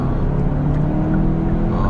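A Hyundai Santa Fe 2.5 turbo gasoline engine hums steadily close by, with a rough, unbroken drone and no pauses.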